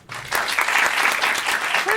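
An audience breaks into loud applause at a live show, clapping steadily and densely after a short quiet start, with some voices mixed in.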